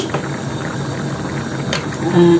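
Water for Chinese biryani bubbles at a boil in a pot, a close, steady seething burble lasting the whole moment, with faint clinks near the end.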